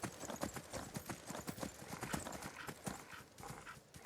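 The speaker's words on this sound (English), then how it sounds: "Magic horse? Can I tame you? I want a flying horse." Quick clip-clopping horse hooves trot steadily at low volume in the video game Skyrim, with a faint whinny mixed in.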